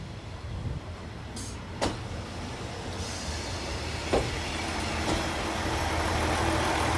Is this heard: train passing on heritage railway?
yes